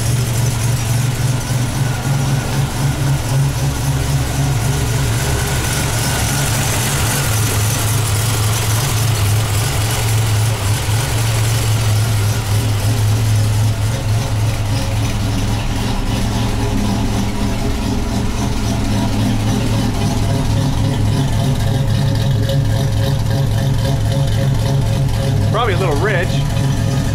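Buick Grand National car engine idling steadily and loudly up close for the whole stretch, a constant low rumble, with voices talking over it at times.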